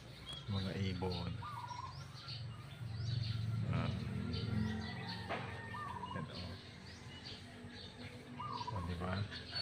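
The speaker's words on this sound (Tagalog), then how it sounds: "mga ibon." Birds chirp in short, bright calls scattered across the clip, fairly distant, amid outdoor ambience under a clear sky in Cataggaman Nuevo, Tuguegarao City, Cagayan, with a voice talking at moments.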